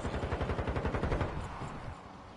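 Rapid automatic gunfire in a zombie war-zone shooter, a steady fast burst of evenly spaced shots for over a second, then tapering into a muffled rumble.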